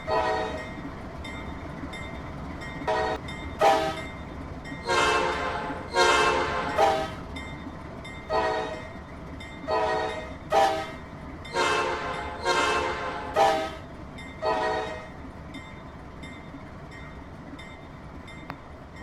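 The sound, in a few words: train horn blowing while driving a train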